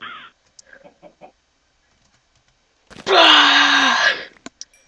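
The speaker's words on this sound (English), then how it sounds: "Mr. Chicken!" A Minecraft chicken lets out a loud, drawn-out squawking cluck, close and alone, preceded by a few faint scattered game sounds and followed by short clicks.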